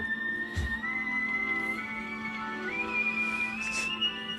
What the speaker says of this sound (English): He's whistling with his teeth and tongue.